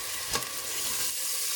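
Potatoes drop into a pot of frying onions with a soft thump, followed by a continuous, even sizzle close by.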